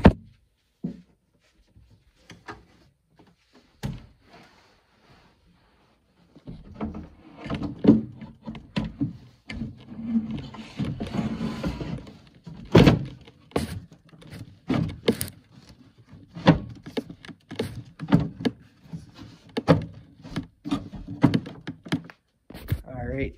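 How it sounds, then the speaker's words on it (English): The case cover of a Zentec 9003 programmable terminal is fitted back on, giving a series of close hollow thunks, knocks and plastic clatters, with someone talking over some of it. "Alright, so there is the case back on"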